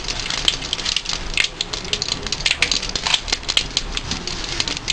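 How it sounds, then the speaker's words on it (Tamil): Mustard seeds crackle and pop in hot oil in a pan, a dense, continuous stream of sharp sputtering ticks heard up close with no talk. "இப்போ எண்ணெய் சூடாயிருச்சு. இப்போ இதில் கடுகு போடுறோம்."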